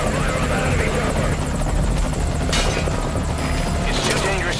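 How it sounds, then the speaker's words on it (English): Enemy helicopter in Metal Gear Solid V Ground Zeroes, its rotor thumping loudly and continuously close by, with gunfire bursts and voices talking over it. "Focus all your fire on that enemy chopper."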